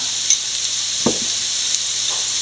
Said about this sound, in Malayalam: നല്ലപോലെ വഴറ്റിയെടുക്കുക നമ്മുടെ സവോള നല്ലപോലെ വഴന്നിട്ടുണ്ട്